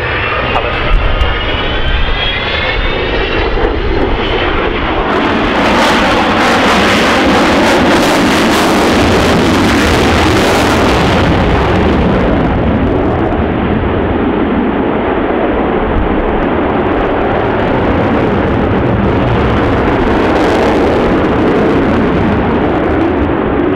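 An Avro Vulcan XH558 bomber flies past at an RAF air show, its jet engines a loud, continuous roar that surges and swells near the middle, with wind buffeting the microphone.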